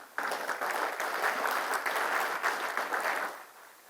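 A burst of applause from a conference audience welcoming the session chair at a legal panel on arbitral awards, steady clapping for about three seconds before tapering off, moderately loud.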